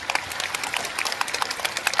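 A large crowd at a regional cultural festival gathering in Jagdalpur claps loudly and continuously, a dense patter of many hands close and far.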